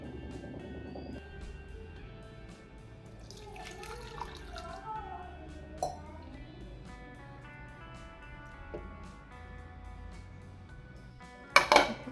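Water is poured over cooked rice to soak in a home kitchen: a faint, brief splashing pour midway, scattered soft drips, and a sharp clatter of a vessel near the end.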